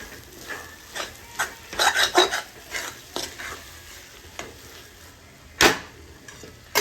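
A spoon stirs a sweet corn chivda mixture in a pan with scraping, rasping strokes at an irregular rhythm, close by and moderately loud, with a faint sizzle underneath.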